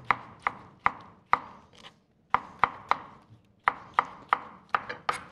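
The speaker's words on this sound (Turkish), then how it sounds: "Domatesimizi tekrardan ufak ufak doğrayalım." A knife chops tomatoes into small pieces on a cutting board in a kitchen, giving sharp, close, evenly spaced thuds in quick bursts with short pauses between groups.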